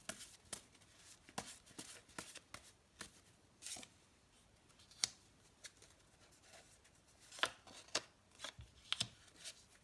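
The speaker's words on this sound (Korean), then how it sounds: "추가 카드를 좀 더 뽑아볼게요" Tarot cards are shuffled and drawn close by, with quiet papery flicks, slaps and riffles in an uneven rhythm, soft overall and with no speech.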